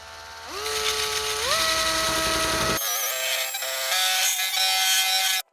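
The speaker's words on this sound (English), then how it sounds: "Put the wee disc into a drill" An electric drill fitted with a small sanding disc whines up to speed, its pitch stepping higher, then grinds steadily against a caravan stabiliser hitch before cutting off abruptly, close and loud.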